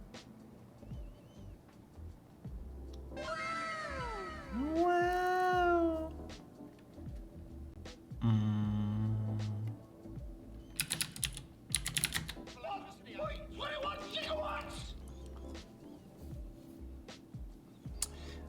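A cat meow sound effect plays twice, a pair of rising-falling tones, amid clicky keyboard typing at a desk; a voice says a brief word near the end.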